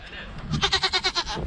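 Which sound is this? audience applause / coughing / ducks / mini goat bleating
mini goat bleating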